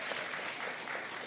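Steady applause from a live audience at a Rex show, a dense wash of clapping hands that holds evenly at moderate loudness for its short length.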